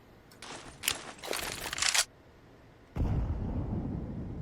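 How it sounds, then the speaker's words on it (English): A grenade detonates near the stairs on the Vertigo map in CS:GO, a sudden heavy blast that rolls on after a cluster of sharp gunfire bursts and a short lull. "the nade goes down in towards the stairs"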